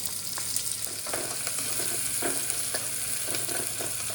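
Finely chopped ginger and garlic frying in a hot pan for injipuli, a steady close sizzle with a few scraping stir strokes breaking through at intervals.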